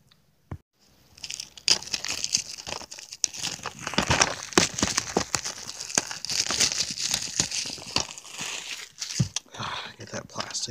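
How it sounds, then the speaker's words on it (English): Plastic shrink wrap is ripped and crinkled off a Teen Titans Go four-disc DVD box set, a run of loud, close crackling tears and scrunches lasting several seconds. "Get that plastic off."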